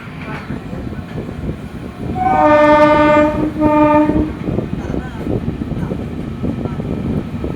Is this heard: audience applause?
no